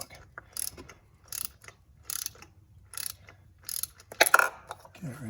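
A ratchet tightens a spark plug on a Toyota Corolla, giving short bursts of quick clicking in an irregular rhythm, close and fairly quiet, with a brief louder metallic rattle near the end.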